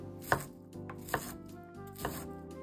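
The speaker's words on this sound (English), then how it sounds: "I'm going to cut the inside into small pieces as well" Knife chopping okonomiyaki ingredients into small pieces on a cutting board: three sharp, close chops spaced about a second apart over a quiet background.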